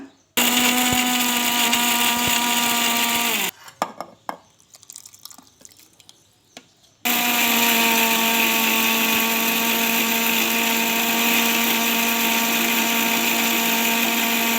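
A mixer grinder blends soaked Byadagi chillies into paste, its loud, steady high whine running alone for a few seconds, then stopping briefly with some rattling before starting up again and running at full speed to the end.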